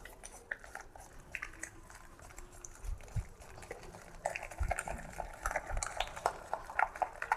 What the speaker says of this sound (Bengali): তো চলুন ভালো করে একবার মেখে নিই আগে।